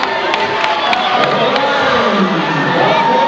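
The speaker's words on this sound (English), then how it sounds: "That woke the crowd up." Loud basketball arena crowd roaring and cheering after a hard foul, a dense sustained swell of many voices with whistles and shouts mixed in, close and enveloping throughout.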